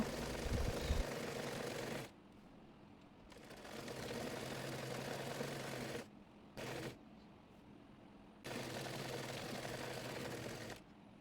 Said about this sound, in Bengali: একইভাবে অপর পাশটিও সেলাই করে নেব নিচটি মুড়িয়ে সেলাই করে নেব